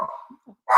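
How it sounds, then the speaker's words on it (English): A dog barks in the background during a livestream event about collecting art. There are a few short, muffled barks spread across less than a second, and a louder burst comes at the end. "you can hear my dog barking in the background"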